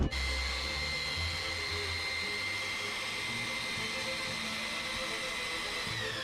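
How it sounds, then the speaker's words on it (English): Power sander working the cut edge of a wooden Gemini 3200 salon table, a steady continuous whirring drone held close and even throughout. "Now I got to sand this and get a nice edge on it"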